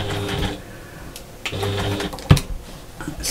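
A sewing machine basting along the raw edge of fabric binding runs in short close bursts of rapid mechanical whirring, separated by brief pauses and a sharp click.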